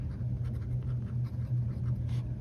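An extra fine steel nib fountain pen scratches across paper in short, soft strokes, a faint dry rasp close up with a steady rhythm of small pauses.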